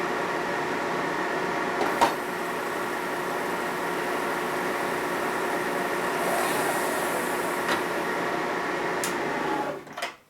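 A steady, even grinding whir of a cutter working a valve seat in a 1961 Harley-Davidson FL 74ci panhead cylinder head, continuous and close, with a few faint clicks before it winds down at the end.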